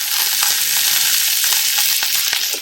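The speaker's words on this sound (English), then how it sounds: "we're going to go ahead and start to caramelize these onions" Sliced onions caramelizing in a hot pan give a loud, steady sizzle close by, dotted with small crackles and the scrape of stirring.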